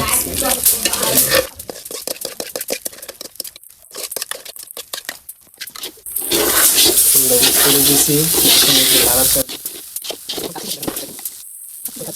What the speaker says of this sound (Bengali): এই যে গোস্তটা আমরা দিয়ে দিচ্ছি দেখেন